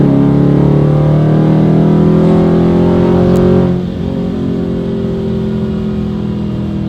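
A car fitted with long tube headers accelerating hard from about 30 to 65, loud rising engine pitch climbing steadily before a shift drops it and the pull resumes, heard from inside without talk.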